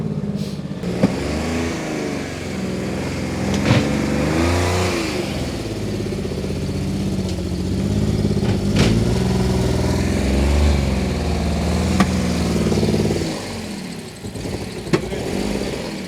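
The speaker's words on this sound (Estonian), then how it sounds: "Pops and Bangs. Praegu on ikka väga mingi misfire seal." A BMW E46 winter drift car engine revs continuously with a rough, uneven note, its misfire breaking through as scattered pops and bangs, loud and close.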